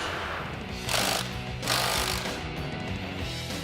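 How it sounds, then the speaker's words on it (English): Power tool, likely an impact wrench, removing the lower shock bolts on a Jeep Wrangler during a suspension lift, two loud close bursts of rattling hammering over a steady mechanical background. "Next, we're going to remove the lower portion of the shock bolts."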